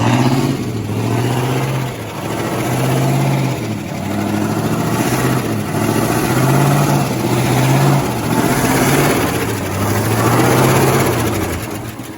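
An old 1961 Chevy C10 pickup truck engine idling close by, a steady low rumble with a rhythmic pulsing, running alone without voices.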